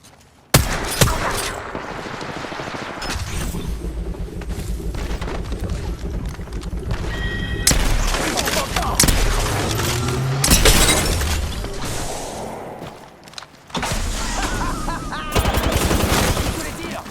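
Gunfire in a video game shooter: near-continuous volleys of loud shots and impacts with short gaps, layered with game effects and someone talking over the action.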